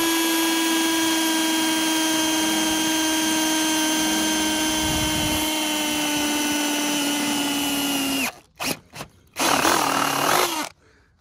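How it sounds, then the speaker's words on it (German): A power drill bores a hole while fitting parts for an orchard irrigation system, a loud steady whine held for several seconds before breaking into short stuttering bursts and a final rough spin-up. "Ja, jetzt müssen wir hier oben noch ein Loch reinbohren. Das machen wir hier mit dem Bohrer."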